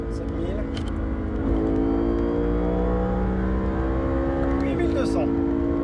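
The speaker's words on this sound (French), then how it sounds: "On va monter au 8000 tours." BMW M3 E92 engine revving hard toward 8000 rpm on a drive, a loud steady high-pitched howl that climbs in pitch and intensity, with a brief gear change partway through.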